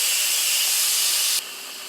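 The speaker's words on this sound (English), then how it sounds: "We're going to go ahead and do a quick release on the back of the unit." Steam hisses loud and steady from the quick-release valve on the back of an Instant Pot after chicken has pressure cooked, then drops suddenly to a softer hiss near the end.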